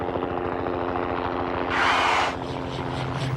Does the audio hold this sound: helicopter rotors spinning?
yes